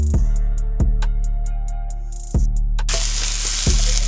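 Vegetables sautéing in a pan produce a steady broadband sizzle, with sharp utensil clacks against the pan at regular intervals and a brighter, hissier burst of frying near the end; no voices.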